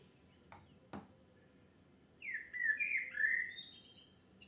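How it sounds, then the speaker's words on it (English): A blackbird sings outdoors, a few faint clicks followed by a loud, clear run of warbling, fluttering phrases close by, with no talk. "the blackbird again"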